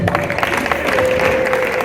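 A congregation claps at a church anniversary celebration, a brief burst of dense, even applause with faint crowd noise and a sustained musical tone underneath.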